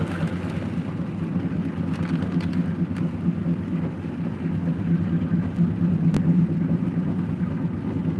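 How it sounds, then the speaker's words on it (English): Heavy, steady downpour near Jonesville, Virginia, roaring continuously, dense and loud throughout, with a few faint distant rumbles underneath. "It's just raining really hard."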